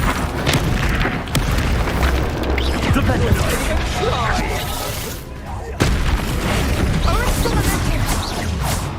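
A Bombarda spell blast in Hogwarts Legacy lands amid dense combat noise, with booming impacts and clattering debris running loud and continuous, plus a sharp jolt near the middle.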